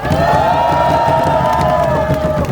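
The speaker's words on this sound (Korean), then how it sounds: "박범정 세종시당 대변인에게 박수 부탁드립니다" A large crowd at a candlelight rally in Sejong cheers and shouts in a loud, continuous roar, with sustained voices rising above the mass noise throughout.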